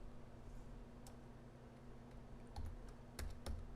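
Computer keyboard typing at a desk, a few faint, sparse keystrokes and short clicks over a steady low electrical hum, quiet and close.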